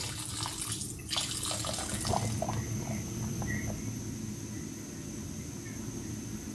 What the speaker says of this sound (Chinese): 加水